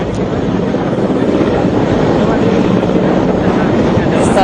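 Rescue helicopter hovering over a flooded area where people are lifted one by one from a stranded bus, a loud continuous rotor and engine roar that stays steady throughout.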